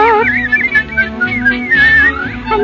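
A person whistles a cheerful, lilting tune with clear wavering pitch over soft background music, steady and close for a couple of seconds.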